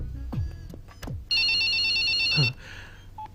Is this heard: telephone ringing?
yes